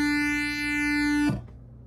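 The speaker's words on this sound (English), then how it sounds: "it's going to give us PWM, pulse width modulation" A buzzy polyphonic synth tone with a shifting, sweeping pulse-width-modulated timbre holds steady, then cuts off abruptly and decays into a low thud.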